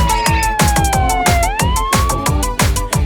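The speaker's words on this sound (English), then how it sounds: "Fire engine! Wee-oh! Wee-oh! Wee-oh! Wee-oh!" A fire engine siren wails in loud, rising and falling sweeps over a strong, steady rhythmic beat from a children's nursery song.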